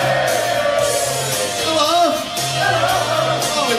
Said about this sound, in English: And the crowd went wild!